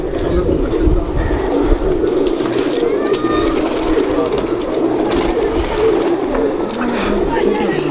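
Laal Pari pigeons coo steadily on a rooftop, a close, continuous low warbling murmur. Someone talks over the birds for much of the time.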